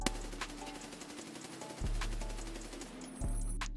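Mutant rifle in Escape from Tarkov firing from a standing position, a couple of sharp gunshot bursts ringing out with echoing tails over a low background rumble.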